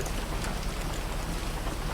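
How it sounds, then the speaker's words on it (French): Steady rain falls continuously, a dense close hiss of drops with no breaks and no voices. "c'est juste la pluie, là."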